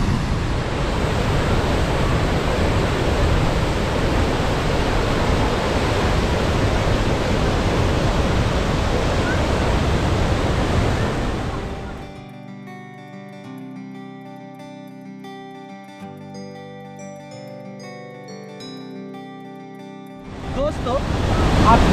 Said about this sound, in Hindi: आप ये देख रहे हैं इंडिया का one of the best waterfall है धुआंधार वाटरफॉल